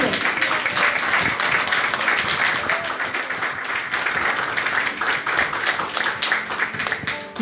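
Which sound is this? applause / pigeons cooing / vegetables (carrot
applause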